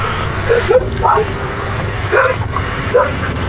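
In the video game Wizardry 8, dogs let out several short barks and yips in a loose rhythm, mid-distance and fairly clear above a low background hum.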